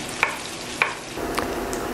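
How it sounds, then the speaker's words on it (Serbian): Meat frying in a pan beside chopped yellow and red peppers, a steady sizzle broken by a few sharp spoon taps and scrapes, nearby and with no talk. "Meso fino lepo se prži"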